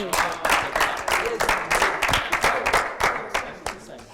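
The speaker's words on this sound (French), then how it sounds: "Applaudissez pour elle." An audience at a youth debate on polygamy breaks into sustained applause, many hands clapping densely and steadily for about four seconds, with faint crowd noise mixed in.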